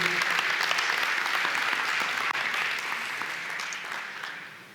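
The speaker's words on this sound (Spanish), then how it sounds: "con un fuerte aplauso, vamos a recibir a nuestro orador, Pepe Menéndez" Sustained audience applause in a conference hall greets a speaker at an education meeting, a dense steady clatter of many hands that gradually eases toward the end.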